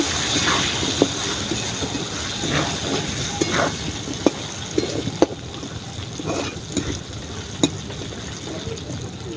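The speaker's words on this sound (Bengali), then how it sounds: "আলুটা আমি ভালো করে ভেজে নেব।" Diced potatoes fry in a pan of hot oil, sending up a steady loud sizzle and hiss with scattered sharp pops and crackles throughout.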